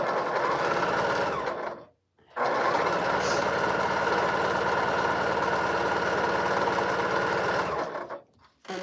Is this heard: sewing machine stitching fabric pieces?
yes